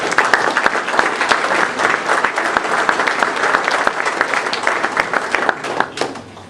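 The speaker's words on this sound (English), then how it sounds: "a round of applause again for all the speakers" Dense applause from an audience at an all-candidates meeting, steady and full for several seconds before tapering off, heard alone without talk.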